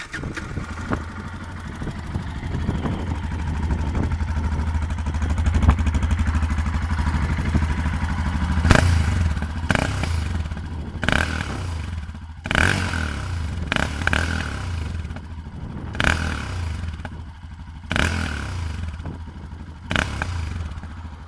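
A motorcycle engine idles steadily close by, a low throbbing rumble that continues throughout, with sharp clattering knocks breaking in at intervals during the second half.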